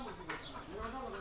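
A free-range country chicken, soon to be cooked into biryani, gives a faint, brief cluck nearby while a person talks over it.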